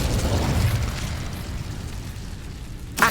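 Incendio fire spell blast in Hogwarts Legacy, a low whooshing burst that rumbles and fades over a few seconds, followed by a sharp bright crackle at the end.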